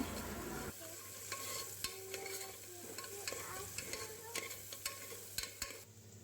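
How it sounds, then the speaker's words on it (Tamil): Softened tomatoes with turmeric powder being stirred in a pan: a low sizzle underneath repeated light scrapes and taps of a spoon on the pan, close and fairly quiet, with no speech. "அதில் கொஞ்சமாக மஞ்சள் பொடி சேர்த்து அதையும் வந்து மிக்ஸ் பண்ணி விட்டுக்கலாம்"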